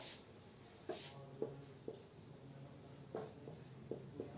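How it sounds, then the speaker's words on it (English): A pen or marker writes a chemistry equation on a board or paper, producing faint, scattered short scratches and taps in a quiet room. "See, I am writing it here."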